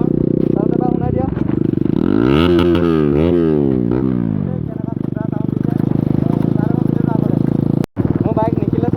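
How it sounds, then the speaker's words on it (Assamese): An RS200 motorcycle engine runs loud and close, with a steady throbbing idle broken by a few sharp revs that climb and fall, then settling back to a rumbling idle. "মই গম পাইছোঁ বাইকখনৰ চাউণ্ডটো বহুত ডাঙৰ চাউণ্ড"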